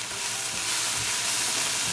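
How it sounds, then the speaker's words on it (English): Ground ginger, garlic powder and black pepper frying in a hot tadka for a mushroom and sweet pepper sabzi, giving a steady, close, loud sizzle and crackle with no talking. "we're going to cook our spices along with our tadka for half a minute"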